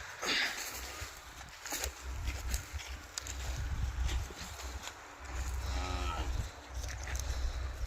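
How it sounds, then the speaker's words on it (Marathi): Cattle, cows and bulls tied up in an open farm field, with a low bovine moo and snorting breaths against outdoor wind rumble, moderately close, along with shuffling and a bright chirp overhead. "हे बघा इकडं वावरात ढोरं वगैरे बांधलेले, गाय बैल वगैरे"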